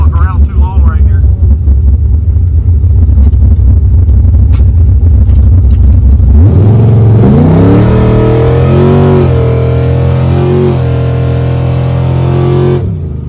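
A Jeep engine revs hard, loud and close, then shifts gear partway through. The pitch sweeps up and resets as the engine climbs through the rpm range.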